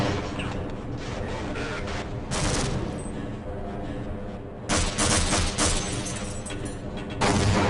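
Repeated grenade explosions and gunfire from the video game Half-Life, a dense continuous barrage with louder bursts breaking through at intervals.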